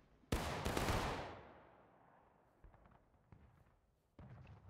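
A line of soldiers fires a musket volley in the Civil War game War of Rights: one loud, ragged crack of many shots at once that rolls off into a long echo, followed by scattered distant gunfire.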